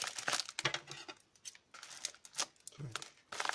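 Crinkly plastic rustles and snips in quick irregular bursts, close by, as a bag is cut and pulled open.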